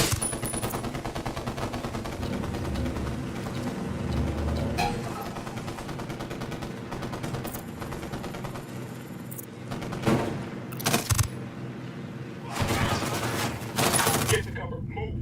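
Squad gunfire in a video game, with dense, sustained bursts of automatic shots rattling throughout and sharper, louder volleys near the end, mixed with faint background voices.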